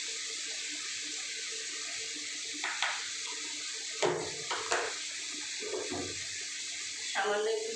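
Water trickles and splashes in a kitchen as a little is poured into ground spices, chili, turmeric and coriander, for a pointed gourd curry, with short clatters and a brief voice at the end.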